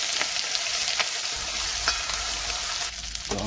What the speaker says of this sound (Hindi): डालने जा रहे हैं अदरक लहसुन और मिर्च का पेस्ट।